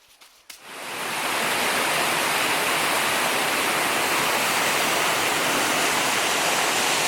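Pršjak waterfalls pour in a steep beech forest, a dense continuous roar of falling water that swells in after a brief quieter start and then holds loud and steady.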